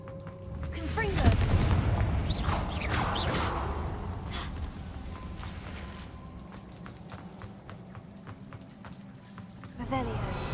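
Confringo fire spell explosions in the video game Hogwarts Legacy: heavy booming blasts with a rumbling tail in the first few seconds, followed by sharp crackling impacts and a fresh burst near the end.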